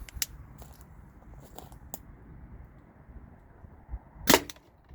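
A Byrna TCR less-lethal launcher fires once at a bottle, giving a single sharp, close pop after several seconds of quiet rustling and faint clicks.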